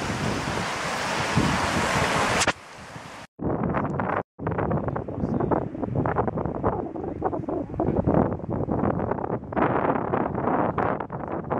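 Ocean surf on a Moroccan coast, waves washing and breaking in a continuous rushing roar with wind buffeting the microphone and brief dropouts, no voices.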